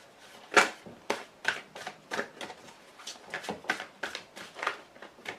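Tarot cards are shuffled by hand in a quick series of about a dozen crisp riffling bursts, close and fairly soft, with short pauses between them and no talk over them.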